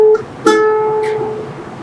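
Ukulele string plucked and sounding while a tuning key winds it higher, a bright ringing tone with a second pluck partway through, close and alone.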